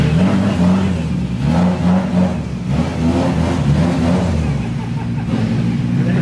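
A car engine revs at a car meet in a warbling, wavering drone, loud and close, with crowd noise in the background.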